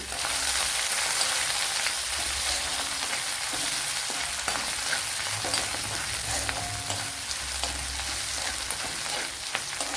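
Ginger and garlic fry in a pan with a constant, loud, close sizzle, accompanied by occasional stirring scrapes, steady throughout with no talk.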